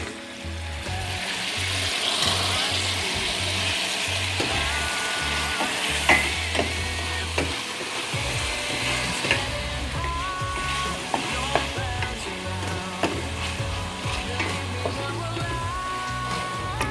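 Tomato added to softened onion sizzles and fries in a pan over lowered heat, a loud continuous crackling hiss broken by the scrape and knock of stirring, with no talk.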